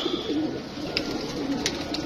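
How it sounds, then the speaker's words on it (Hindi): A female Jansari pigeon coos softly up close, a few low, rolling throaty calls repeated over a quiet background. "ये मुझे बहुत अच्छी लगी है यार ये कबूतरी"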